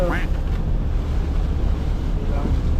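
Strong wind buffets the microphone over a steady rush of big sea waves, heard from a small boat driven by a Honda GX390 engine, with faint voices briefly under the noise.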